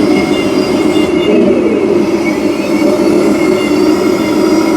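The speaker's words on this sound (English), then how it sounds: "let's just listen to the sound of the turret as well." A steady mechanical whir and grind runs continuously, loud and close, with a slight rise in pitch partway through as the motor turns the turret of a King Tiger RC tank.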